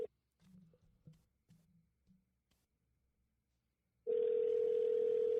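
A telephone dial tone comes in suddenly and holds loud and steady at the end while a call to a guest is placed, after a few soft thumps and quiet handling noises.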